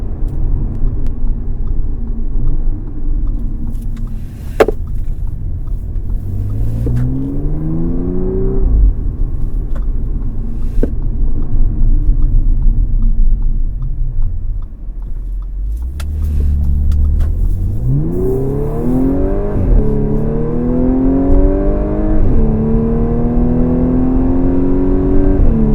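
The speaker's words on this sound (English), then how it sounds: "That's the exhaust sound in this car." A 2015 Audi S4 exhaust note under acceleration in sport mode, a steady engine drone that rises in pitch through two sweeping revving pulls, loud and close with no talking.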